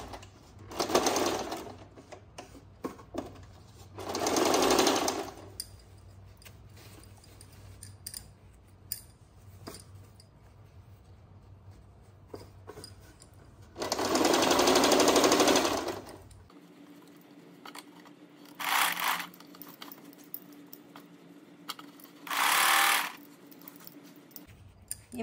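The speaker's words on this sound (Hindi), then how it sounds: "एकदम साइड साइड में सिलाई लगानी है।" A sewing machine stitches elastic onto pajama fabric in several separate bursts of rapid mechanical whirring, each lasting a second or two, with quiet handling noise between runs.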